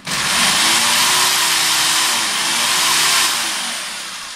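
Loud, steady whine of a drill-powered water pump running close up, its droning pitch holding then easing off at the end.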